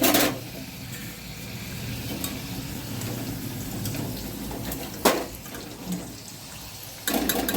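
Potatoes fry in hot oil for restaurant-style french fries, a close, steady crackling sizzle with occasional louder bursts and clatters as the pieces are stirred.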